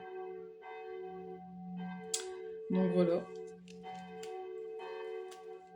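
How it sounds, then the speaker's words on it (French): Church bells ring at seven in the evening, a low, steady peal sounding at moderate distance. Someone talks quietly over them. "J'ai les cloches qui sonnent en même temps."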